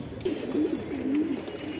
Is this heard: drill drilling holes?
no